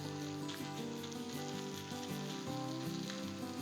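Chicken bites sizzle on a Blackstone griddle with a dense, steady hiss and crackle, heard close, alongside an underlying tonal hum.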